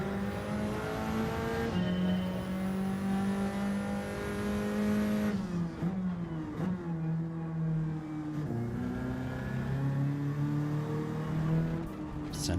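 A race car engine in Gran Turismo 7 holding a steady high-revving drone, then upshifting, the pitch dropping at each shift and climbing again, with faint talk in the background.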